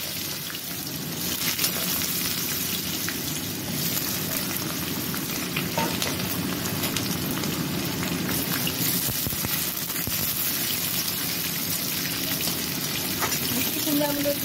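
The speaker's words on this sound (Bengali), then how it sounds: "আমি মিষ্টি কুমড়োগুলো ছেড়ে দিলাম তেলে" Pumpkin pieces fry in hot oil seasoned with dry red chili and five-spice, a steady broadband sizzle that runs loud and unbroken close by for the whole stretch, with no voices.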